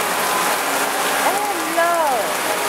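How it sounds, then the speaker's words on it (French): Heavy rain drumming steadily on a beach parasol at Miami Beach, a dense continuous hiss close overhead, with people talking briefly underneath. "le parasol, il va se fermer tellement qu'il pleut"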